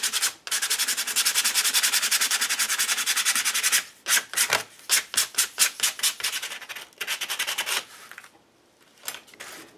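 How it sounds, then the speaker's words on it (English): Sandpaper roughs up a cut cardboard face in quick rhythmic strokes, first as a long run of rapid scratchy rubs, then in shorter separate bursts. The sound is close and fairly loud, with no talking. "I'm going to bring in some sandpaper and I'm just going to rough the texture up a little bit."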